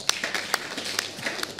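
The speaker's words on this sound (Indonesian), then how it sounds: "Tepuk tangan bagi Tuhan." A church congregation claps for God in a fairly quiet patter of scattered hand claps, with a few sharper individual claps standing out above the rest.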